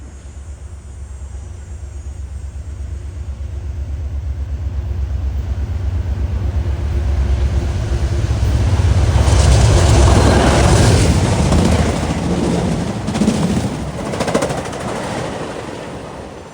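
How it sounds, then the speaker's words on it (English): Via Rail train 40, led by a GE P42 locomotive, approaches on the GO Transit Lakeshore East line and rumbles past at a station, growing to a loud, continuous roar with rapid wheel clatter before fading slightly. "approaching at 10:47 is Via number 40 en route from Toronto to Ottawa. Looks like he's got a GE P42 on the point."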